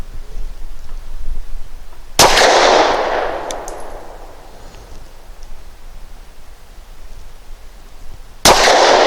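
Two sharp, loud pistol shots from a DB9 Gen 4 firing heavy 100-grain frangible rounds, spaced about six seconds apart, each with a long echoing decay outdoors and no talking.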